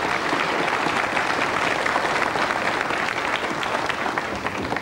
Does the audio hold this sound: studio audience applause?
yes